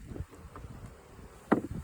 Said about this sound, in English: but we have lots of bees